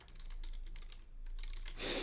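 Rapid clicking keystrokes on a computer keyboard, close and steady for about two seconds, with a brief pause midway and a louder burst of keys near the end; no one speaks.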